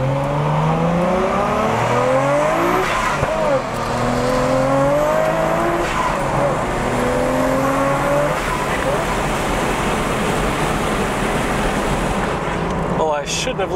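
A Nissan Skyline GTR R33 V-Spec accelerates hard through several rising gear pulls, its engine note climbing and dropping repeatedly with tire noise, heard from inside with open windows and a voice talking over it.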